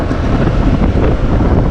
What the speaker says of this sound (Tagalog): Ang sarap ng simoy ng hangin, ang lamig.